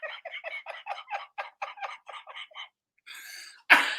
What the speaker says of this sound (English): I'm trying to get over this cough again.